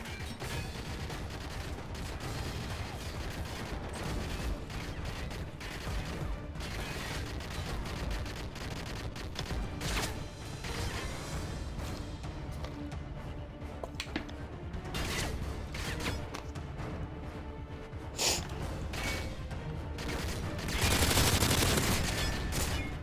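Gunfire in MW3 Survival on the Bakaara map, rapid bursts and shots mixed with mechanical clanks and creaks, dense and continuous and swelling louder near the end, no talking.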